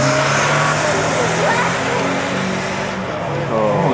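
A turbocharged Honda Civic and a Dodge Avenger run side by side in a drag race at a Motoplex King of the Hill event, making loud, sustained engine roar and revving with crowd and announcer voices over it.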